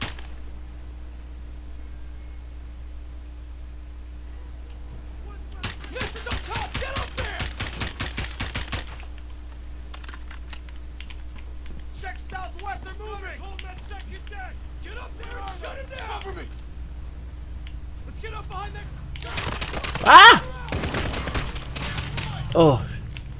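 Bursts of automatic gunfire in the Modern Warfare campaign, including a rapid volley early and loud sharp shots near the end, mixed with game voices and talking throughout.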